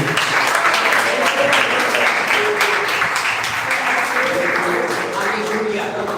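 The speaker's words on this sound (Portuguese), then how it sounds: "Palmas para Jesus." A church congregation claps together during a worship service, a steady, loud wash of applause lasting throughout, with some voices faintly audible underneath.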